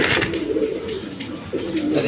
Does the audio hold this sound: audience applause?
no